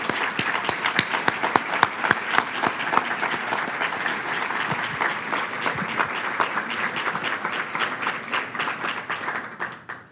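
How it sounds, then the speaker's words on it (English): Sustained applause from a ceremony audience honoring guests at a youth recognition event, dense steady clapping with sharp individual claps standing out, continuing for about ten seconds before easing slightly at the end. "Please give them a round of applause."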